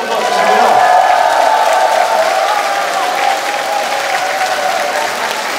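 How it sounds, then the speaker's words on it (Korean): A large audience claps loudly and steadily after a samulnori traditional Korean percussion performance at the Gangneung Danoje festival, with a voice speaking over the continuous applause and scattered cheers. "큰 박수 한번 더 주시고요"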